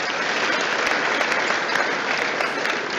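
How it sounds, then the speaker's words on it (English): A round of applause from a conference audience welcoming a president-elect, dense and steady at full volume for about three seconds with no break. "Let's give Bob a round of applause."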